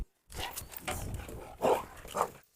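A Cane Corso barks and growls in play, with loud, rough bursts spread across the clip and two stronger barks near the end, set against a busy background.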